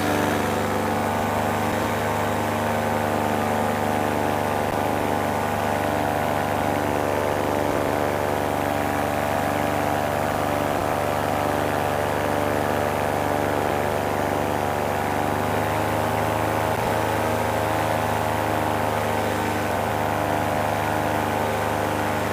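A paramotor engine drones steadily through low flight, a constant, fairly loud buzzing hum with stable harmonics and no voices.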